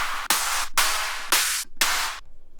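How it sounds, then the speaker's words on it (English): Long clap drum samples auditioned one after another in Ableton for a techno beat, three broad noisy bursts with lingering reverb tails and short gaps between them, loud and alone. "I mean, they're quite long claps, aren't they?"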